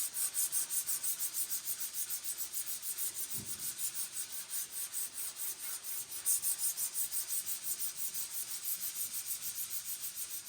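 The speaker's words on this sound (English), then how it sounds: "That's what we're sanding on right now." Rhythmic back-and-forth sanding of 2K primer on the metal body of a 1951 Vendo 39 Coke machine, a steady close scratchy rubbing that pulses evenly for the whole stretch with no talk.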